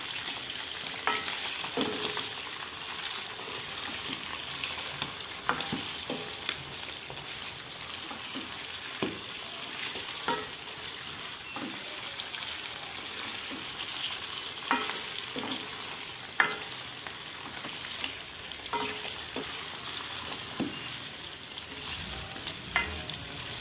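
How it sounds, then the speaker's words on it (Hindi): Mutton liver frying with onions in a pan, a steady soft sizzle with occasional sharp stirring scrapes and clicks throughout, fairly quiet and close, no talking. "अब हम इसकी भुनाई करेंगे कलेजी की प्याज के साथ 1 से 2 मिनट के लिए।"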